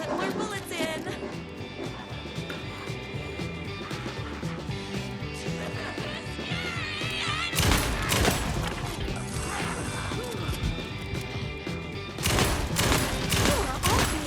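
Shotgun and rifle gunfire in the survival horror video game Alan Wake 2, with repeated sharp blasts and crashes over a continuous game soundtrack, and heavier bursts of shots near the middle and toward the end.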